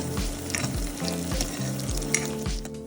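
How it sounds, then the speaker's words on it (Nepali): Ginger-garlic paste and spices fry in a pan with onion and a green chilli for a mushroom curry, a steady sizzle broken by regular scraping stir strokes about every half second. "यसलाई केही बेर चलाउँदा नै भुट्नु पर्दछ"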